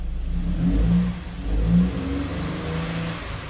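A car engine misfiring on cylinders 4, 6 and 7 idles unevenly, its low rumble surging and dipping in uneven pulses, close and fairly loud with no talking.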